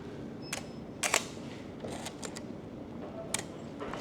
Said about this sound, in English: The mirror go up. The shutter didn't fire yet.